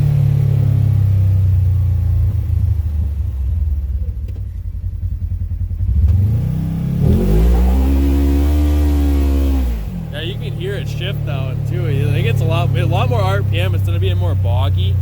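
A Polaris General UTV fitted with a clutch kit and tuned ECU accelerating hard, its engine rising in a loud sweeping rev, dropping, then revving again with tire noise and clatter, while people talk over it.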